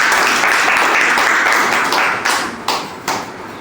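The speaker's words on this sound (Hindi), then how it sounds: "आप लोग ताली बजाकर इनका हार्दिक स्वागत और अभिनंदन करें।" Crowd applause welcomes the founder and national president of a political party at a village meeting in Bhelara, Sultanpur, Uttar Pradesh: dense, steady clapping that thins into a few scattered claps toward the end.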